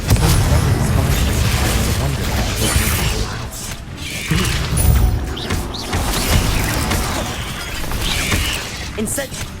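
Spell effects in the Hogwarts Legacy video game, a near-continuous barrage of loud crashes, shattering bursts and booming impacts over rumbling action, with voices shouting over it.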